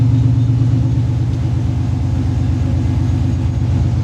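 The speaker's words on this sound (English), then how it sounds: "as you can probably hear my truck" A 1990 Chevy shortbed pickup idles while warming up, a loud, close and steady low rumble with an even throbbing pulse and no one talking.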